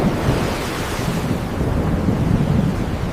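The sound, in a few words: storm sound effect with wind and waves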